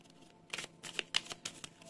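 Tarot cards being drawn and handled during a reading, a quiet series of soft papery flicks and slides in quick succession, close and faint, with no speech.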